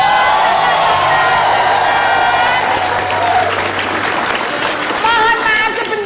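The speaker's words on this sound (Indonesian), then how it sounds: "Tepuk tangan buat penonton." A studio audience at an Indonesian comedy show claps steadily and loudly throughout, a dense sustained wash of applause with some cheering, while a host speaks over it.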